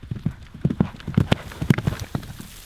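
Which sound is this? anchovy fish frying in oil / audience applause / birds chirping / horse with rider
horse with rider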